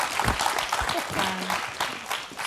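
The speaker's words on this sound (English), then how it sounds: "Clap, clap, clap." A crowd claps steadily and fairly loudly, a dense patter of many hands with no pause.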